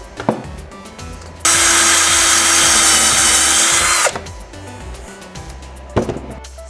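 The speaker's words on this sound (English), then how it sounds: "Or I might just drill a bigger hole." A power drill bores a bigger hole in a prop lightsaber hilt, a loud steady whine lasting about three seconds between quieter handling clicks and taps.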